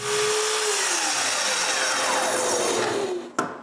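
Power saw cutting a strip of walnut wood into small squares, a loud continuous whine with a falling pitch sweep as the blade bites, ending in a sharp thunk near the close.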